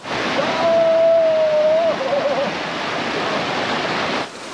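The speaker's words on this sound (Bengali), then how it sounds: "ওই হচ্ছে মেন জলপ্রপাত, ওইটাই ধাপে ধাপে নেমে এসছে এখানে।" A loud, continuous roar of a waterfall cascading down in steps fills the scene close by, and a thin whistle-like tone rises briefly over the rushing water.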